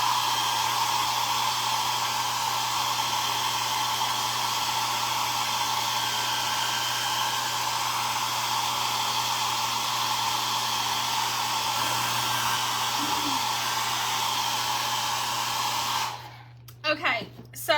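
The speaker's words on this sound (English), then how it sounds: "I'm gonna blow dry this right quick." Steady, loud hair dryer blowing continuously to dry paint on a wooden carrot sign, a constant airy roar that runs alone for about sixteen seconds before cutting off abruptly.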